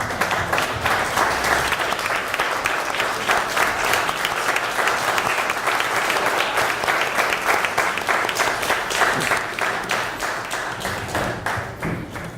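Sustained audience applause for standing veterans at an old-fashioned Fourth of July gathering, dense, even clapping from a sizable crowd that keeps going steadily for the whole stretch, easing off only slightly at the end.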